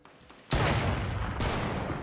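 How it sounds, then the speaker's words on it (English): A teammate's gunfire in a multiplayer shooter video game, sharp loud bursts starting abruptly after a brief quiet and then continuing as dense rattling shots, with a second burst joining shortly after, with no talk. "it's a teammate shooting this way"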